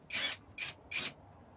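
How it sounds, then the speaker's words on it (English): Three short scraping rubs sound close and distinct as screws are worked out of wooden bunk beds, each burst of rough friction separated by a brief pause. "as I take these screws out"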